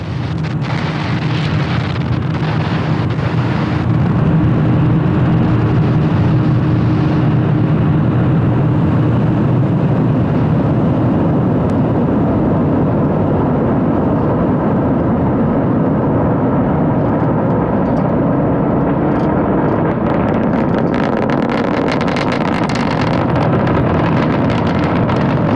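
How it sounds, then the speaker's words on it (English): A SpaceX Falcon 9 rocket lifts off from Launch Complex 39A at Kennedy Space Center on a Starlink mission, a continuous loud, deep rumbling roar with crackling and wind buffeting that holds steady throughout. "Falcon 9 has successfully lifted off from Launch Complex 39A at Kennedy Space Center"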